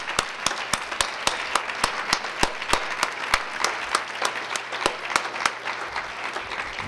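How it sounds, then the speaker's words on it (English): Scattered, sparse applause from a standing audience at a hypertension health event, with distinct individual claps ringing out at an uneven rhythm over a soft background wash for several seconds. "If we can stand up and really give a round of applause for Brett, Duane,"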